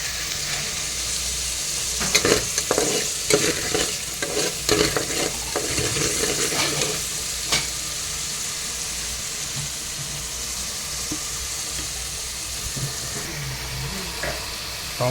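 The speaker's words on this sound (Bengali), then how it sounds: "আদা রসুন পেঁয়াজ হলুদ মরিচ কষাইতেছি" Ginger, garlic, onion, turmeric and chili sautéing in a pan for a hilsa fish curry, a continuous close sizzle broken by scraping, clattering stirring strokes that ease off toward the end.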